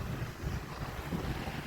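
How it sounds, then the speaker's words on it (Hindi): Cold wind blows steadily on a snowy winter morning in Birmingham, UK, a continuous low rumbling gust buffeting the microphone with no pauses, close and moderately loud throughout. "ठंडी हवा चल रही है।"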